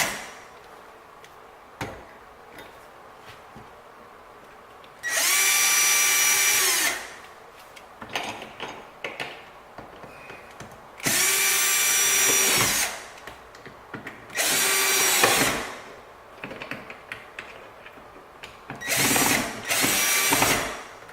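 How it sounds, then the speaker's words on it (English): A power drill drives screws into wood to attach a door hinge during a loose-hinge repair. Loud, close bursts of whirring come one after another, each lasting a second or two, with quieter clicking and handling noises in between. "Now you have enough wood in the opening so that the screw can be properly drilled to attach the hinge."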